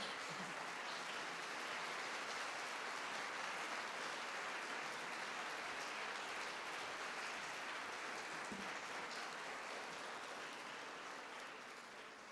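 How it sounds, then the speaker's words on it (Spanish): Broad, steady applause from a conference audience at an architecture lecture fills the hall, holding strong and even for about twelve seconds before easing slightly at the end. "Le doy un fuerte aplauso."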